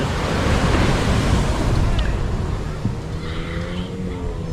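Ocean surf at the seaside washing steadily over a beach, a continuous broad roar with buffeting wind noise on the microphone and a few faint distant sounds in the background.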